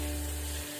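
Chicken fries with ground spice paste in a 32 cm non-stick wok, giving a brief, steady close sizzle over a low hum.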